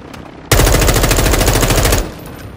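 A single loud, sustained burst of rapid machine-gun fire in Call of Duty Modern Warfare 2 starts abruptly and runs for about a second and a half before stopping, with quieter game ambience before and after.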